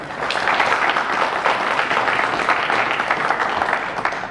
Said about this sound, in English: I think they're applauding your research.